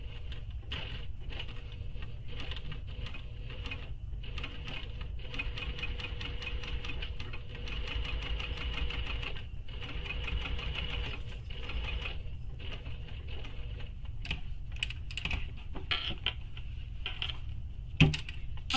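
A sewing machine stitches a shoulder bag in a steady, fast mechanical run of ticking needle strokes, pausing briefly a few times, with a small knock near the end.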